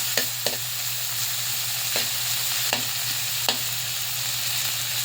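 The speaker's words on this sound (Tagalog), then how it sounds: "Lutuin natin ng konti ang ating kamatis." Tomatoes fry in a pan with a steady, loud sizzle, and a utensil scrapes and stirs at irregular intervals. No one speaks.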